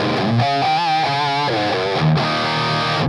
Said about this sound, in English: if we actually do just turn the delay and reverb off, we hear just the dry tone.